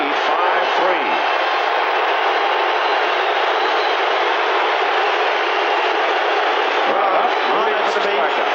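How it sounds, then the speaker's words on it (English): Yankee Stadium crowd at an ALDS playoff game against the Brewers, on its feet and screaming for a strikeout in the eighth inning: a dense, loud, sustained roar that holds steady throughout, with commentary faintly underneath. "Crowd on its feet, Keith, screaming for the strikeout."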